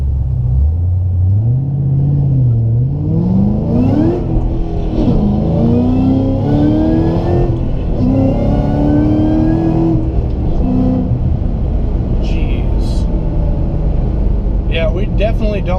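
A 700 hp Ford GT500 launches on Nitto NT05 drag radials. Its loud, close engine roars through several rising pulls, with quick gear-change dips between them, then settles into a rumble.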